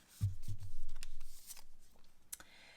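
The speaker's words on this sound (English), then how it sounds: "I will give them a quick shuffle before we begin" Tarot cards are riffled and shuffled up close, a few quick papery flutters and soft slaps, quiet and with no one speaking.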